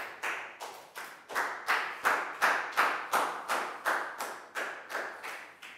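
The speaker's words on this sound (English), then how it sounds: "High five and a big round of applause for Dan" A classroom of Year 4 pupils claps in rhythmic unison for a classmate, about fourteen sharp, evenly spaced claps landing roughly every 0.4 seconds, fairly close and loud with no talking.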